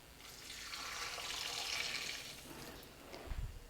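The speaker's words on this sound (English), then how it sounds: "I'm going to drain the water." Water from a pot of three cups of washed rice pours and splashes steadily into a sink for a few seconds, a broad close hiss that tails off near the end with a low thump.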